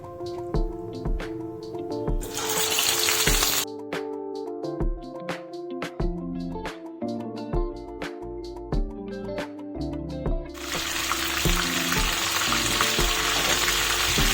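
Chicken fries in hot oil, loud bursts of sizzling at the start and again for the last few seconds, separated by a stretch of rhythmic music.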